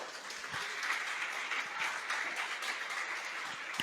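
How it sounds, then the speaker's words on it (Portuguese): A church congregation at a sermon applauds steadily, a soft, continuous patter of many hands at a moderate distance. "Você pode aplaudir ao Senhor?"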